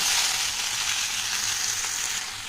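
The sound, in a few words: okra frying in a pan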